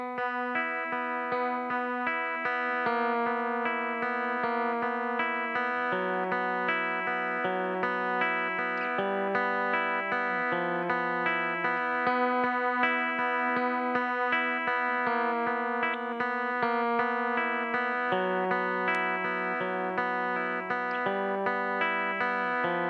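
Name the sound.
guitar playing intro of a song, with effects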